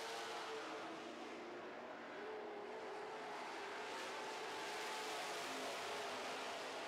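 Super stock race cars roar around an oval track during a feature race, a continuous, fairly distant engine drone with no break in the noise.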